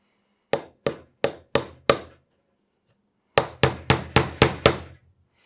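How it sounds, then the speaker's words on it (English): Two bursts of sharp wooden hammer blows, five strikes and then six in quick, even succession, driving nails into wood while building a DIY balance board; close and loud with silence between the sets. "And when you're hammering, use your wrist."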